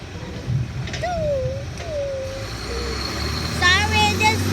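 A garbage truck rumbles and hisses steadily nearby, its low engine drone running under kids' voices that chatter and shout over it.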